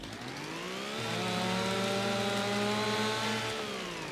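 A video-game chainsaw in a timber-felling game drones steadily, its engine pitch rising as it revs up, holding a sustained buzzing whine, then easing back down near the end, with no voices over it.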